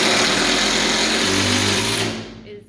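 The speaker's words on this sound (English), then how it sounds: "So now we're just lag bolting these to the wall." A power tool drives lag bolts into a wall, a steady high whirring motor that runs loud and close for about two seconds before winding down and stopping.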